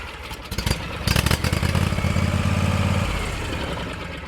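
A Hustler Raptor X 50-inch zero turn mower engine starts up with a brief crank and then runs with a loud, rapid, chugging clatter close by, settling into a steady idle.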